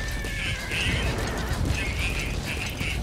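A horse in the video game Metal Gear Solid V gives a couple of short whinnies over steady ambient game noise and low rumble, fairly close and without talk.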